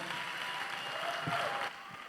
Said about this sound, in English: Honorable, please, round of applause.